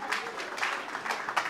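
Applause from guests at a Congolese civil wedding ceremony, honoring the couple; a moderately faint, steady patter of many hands lasting under two seconds, with no speech over it.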